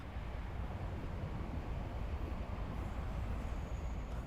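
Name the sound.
train passing at night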